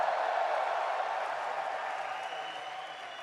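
A packed arena crowd at the Austin Major 2025 CS grand final applauding and cheering for The MongolZ, a dense steady wash of clapping and roar that slowly fades, heard from within the hall.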